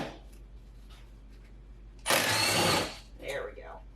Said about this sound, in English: the first thing we're going to do is take out the lower shock bolt